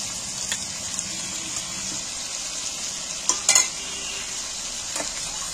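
Fried onions being stirred into sizzling, nearly dry-fried chicken in a pan, a steady close hiss with a few sharp scraping clatters of the spatula midway and near the end.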